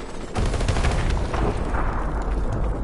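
Rapid bursts of gunfire from a PS4 combat video game, a dense, loud volley that runs continuously with sharp repeated cracks over a booming low rumble.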